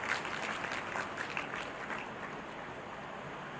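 An audience at an international conference valediction ceremony applauds the session chairpersons, a fairly faint, steady patter of clapping that thins slightly toward the end.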